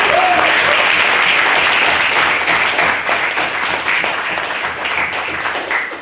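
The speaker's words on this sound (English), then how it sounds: "So can we first get a round of applause?" A debate audience bursts into loud, sustained applause for the evening's speakers, dense crowd clapping that holds steady for several seconds and eases slightly toward the end.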